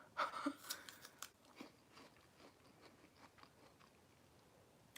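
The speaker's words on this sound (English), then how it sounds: "I'm just gonna be like eating this real quick as I talk." Close, quiet crunching and chewing as someone eats a snack during a livestream, with a few sharp bites at the start fading into softer, sporadic mouth sounds; no speech.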